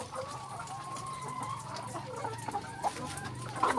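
Laying hens clucking steadily nearby, with a few louder squawks toward the end over a continuous outdoor background.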